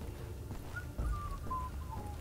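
An enemy in the video game Wolfenstein: The New Order whistles a short, thin, descending tune. It sits at middle distance over low ambient game noise, with no speech.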